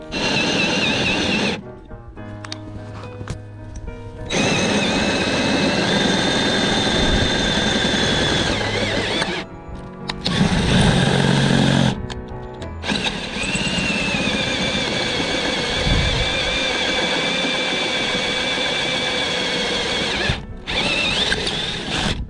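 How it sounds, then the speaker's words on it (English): A power drill bores holes for an awning installation, its motor whining in sustained bursts with brief pauses between runs, loud and close, with no one talking. "So now we've got our new hole drilled in."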